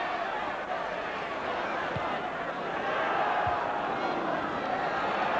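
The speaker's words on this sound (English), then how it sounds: "Now the crowd find a bit more voice." Football crowd at a 1988 Division 1 playoff final, Middlesbrough versus Chelsea, a dense steady roar of many voices that swells slightly louder in the second half, with faint thuds underneath.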